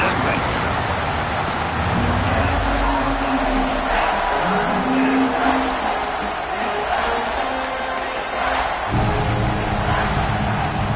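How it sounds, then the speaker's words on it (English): A football stadium crowd roars and cheers during a defensive red zone stand, a dense continuous wall of noise with a commentator talking over it throughout. "This crowd is trying to inspire this defense to make a big red zone stop"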